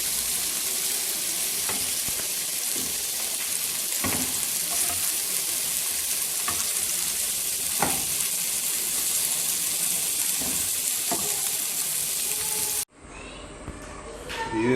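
Chicken tikka meat sizzles on a grill pan, a steady loud frying hiss with occasional pops and scrapes, then cutting off abruptly near the end.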